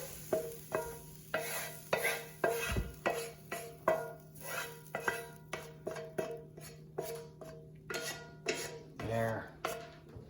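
A rice and lentil mixture is stirred in a pot for a veggie lentil bake, with a steady run of rhythmic scraping strokes and utensil knocks against metal, close and alone with no talk.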